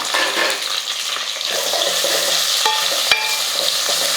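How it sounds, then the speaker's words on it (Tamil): Onions for sambar sauté in a hot pan, a steady close sizzle with stirring scrapes and a sharp utensil tap partway through, no talking. "வெங்காயம் வந்து நல்லா வதங்கட்டும்"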